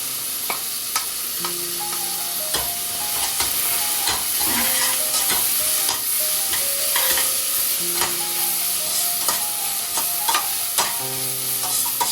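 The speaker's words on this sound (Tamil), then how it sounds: "கடுகு, பெருஞ்சீரகம், சின்ன ஜீரகம், ஏலக்காய் கருவா எல்லாம் ஆட் பண்ணுவோம்." Mustard seeds, fennel, cumin, cardamom and cinnamon fry in a pan for a mango curry, a constant loud sizzle with crackling pops and the scrape of stirring throughout, close and alone.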